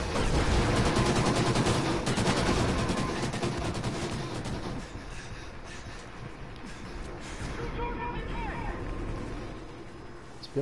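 Dense gunfire rattles in the shooter video game Call of Duty: Ghosts, with loud overlapping bursts that ease off midway and pick up again, under people talking.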